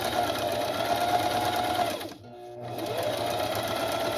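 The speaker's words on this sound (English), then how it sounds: "I'm just going to do a zigzag on this." A sewing machine runs a zigzag stitch across felt-backed fabric, a loud close whirring buzz that briefly drops out and slows before starting up again and running steadily.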